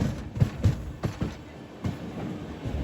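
Sambaleshwari Express with a WAP-7 electric locomotive rolling past on the Howrah–Jagdalpur route, a steady rumble with a series of rhythmic wheel thumps over rail joints, fairly near and moderately loud.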